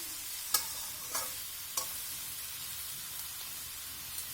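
Snake gourd cooked with egg fries in a pan with a soft, steady sizzle, broken by a few brief scraping stirs of the spatula; quiet and close, with no talking.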